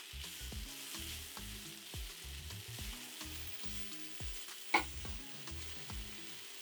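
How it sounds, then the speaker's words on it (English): Vegetables hit a very hot pan and fry with a steady, close sizzle, with a single sharp clink partway through and tonal background music underneath. "Now onto a very hot pan, add the vegetables to dry any moisture."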